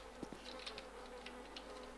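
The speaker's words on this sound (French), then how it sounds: "il y a des mouches" Flies buzz faintly around a dead body in a survival video game, a thin insect drone with a few brief louder passes over a steady low background.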